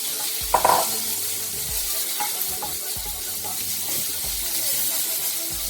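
Red onions drop into a hot pan for stuffed bell peppers and start to sizzle, an even hissing fry with a few stirring knocks near the start, close and fairly loud.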